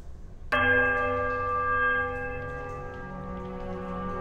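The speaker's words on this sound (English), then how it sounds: "we will ring the right bell." A large bell in the ruins of the video game Pillars of Eternity is struck once, a sudden clang that blooms into a rich, sustained ringing tone and slowly fades. No voices are heard.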